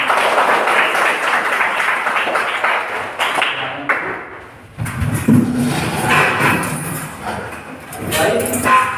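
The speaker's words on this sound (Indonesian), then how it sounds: "Coba tepuk tangan." A group of students in a classroom clap their hands on cue, a loud, uneven patter of claps with a brief lull midway before the clapping resumes.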